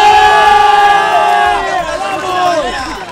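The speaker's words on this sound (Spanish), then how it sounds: "Un fuerte aplauso" A crowd at a youth tennis cup celebration in San Luis Potosí roars and shouts together, loud and close, swelling in unison as the cheering carries on.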